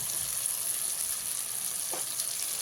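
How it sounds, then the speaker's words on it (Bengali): Tomato paste sizzling in a pan of spices fried until the oil separates, a steady loud hiss of frying throughout with a faint stir, no talk. "এবার এই পর্যায়ে আপনাদের দিয়ে দিতে হবে টমেটো বাটা"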